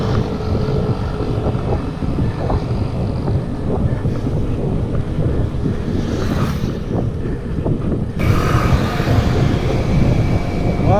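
Steady wind buffeting the microphone while riding a bike outdoors in Magalang, Pampanga, a constant low rushing roar with no talking.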